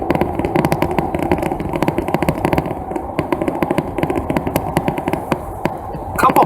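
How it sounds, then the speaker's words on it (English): Manual-transmission car cruising at about 40 mph down a rural back road, with a steady, loud engine drone and constant road rumble close inside the cabin, no talking. "So now I'm cruising along about 40 miles an hour down this back road."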